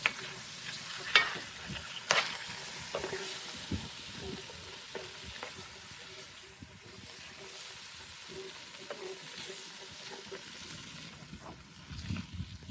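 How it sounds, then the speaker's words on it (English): Beef stew stirred in a pot over a campfire, giving faint scraping and sizzling under steady outdoor background noise, with a few sharper knocks near the start. "Just going to give that a good stir up."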